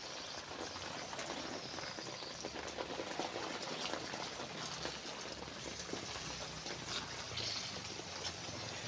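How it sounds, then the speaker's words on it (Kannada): Water is poured onto garden plants early in the morning, a soft, continuous splashing trickle heard close but quietly, with no talking. "ಗಿಡಕ್ಕೆಲ್ಲ ನೀರು ಹಾಕ್ತಾ ಇದ್ದೇನೆ"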